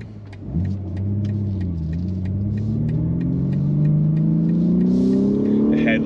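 A 2021 BMW G80 M3 engine revs hard through a second-gear pull, a loud close rumble whose pitch climbs steadily after a sharp onset, with road and cabin noise underneath.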